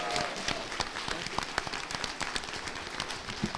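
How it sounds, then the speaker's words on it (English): A convention crowd applauds a panel of animated series voice actors, a fairly soft but continuous patter of many hands with sharper individual claps standing out, heard in a large room. "Can we have a huge round of applause as we go back upstairs?"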